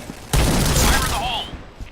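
Video game gunfire, including sniper shots, arrives as a sudden loud burst that keeps up as a dense crackle, with a voice talking over it.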